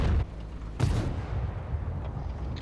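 A tank cannon fires in a tank battle video game, one sharp broadband blast near the start over a steady low engine rumble, with a second loud burst shortly after.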